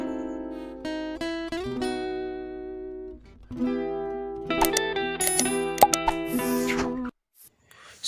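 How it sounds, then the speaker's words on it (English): Notification bell sound effect: a series of bright chiming tones and plucked dings, some sustained and layered, ringing clearly with no voice before a short pause and a faint final note. "hit on the notification bell to get notification for future videos"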